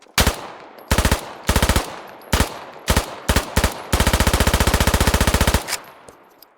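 A P90-like submachine gun fires in the Squad video game: several short, loud, close bursts of rapid shots, then one long sustained burst before it stops.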